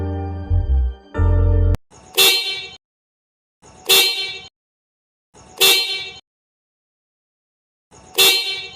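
Outside a house, a sustained deeper tone is heard, then a motorbike horn honks four times in short, loud blasts with long, irregular gaps between them.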